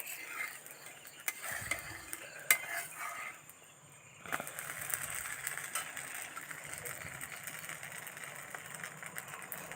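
Cooked taro stalks being moved into another pot, with faint scraping and clinking of a utensil against cookware, a short quiet pause midway, then steady low clatter over background hum; no talking.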